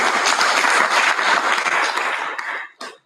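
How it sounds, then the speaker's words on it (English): Audience applause at a regional review mission and health operations centre launch in Karamoja, loud dense clapping that holds steady for over two seconds, then thins into a few scattered claps and stops abruptly. "We can clap for the region."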